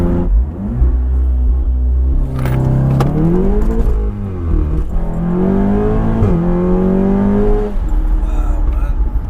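A 600 BHP all-wheel-drive Seat Cupra makes a hard launch, its engine loud and close as it revs up through several rising pulls with brief dips at the gear changes, a strained, roaring acceleration.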